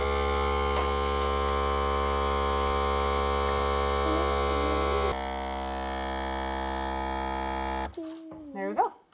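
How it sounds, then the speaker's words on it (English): A vacuum sealer runs with a steady, loud mechanical hum and buzz for several seconds, shifting pitch partway through, then cuts off as a voice speaks near the end. "And now you do vacuum seal."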